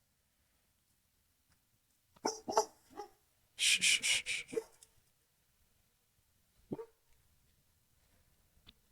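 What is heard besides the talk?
dog barking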